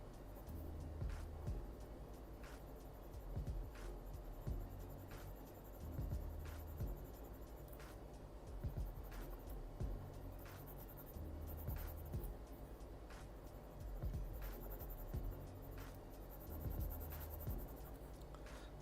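Pencil drawing trees on paper during a landscape drawing workshop, producing continuous soft scratchy strokes with repeated short shading bursts, close and quiet, with a low background hum.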